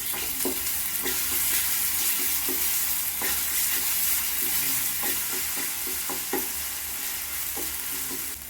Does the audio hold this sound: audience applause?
no